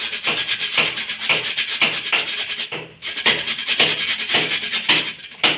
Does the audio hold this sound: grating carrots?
yes